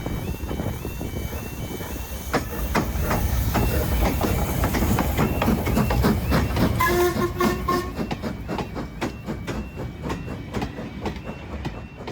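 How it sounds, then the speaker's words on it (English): The Jacobite steam train rumbles past with steady clickety-clack from the rails and a brief whistle-like tone midway, heard from nearby without voices. "we caught a glimpse of the Jacobite steam train."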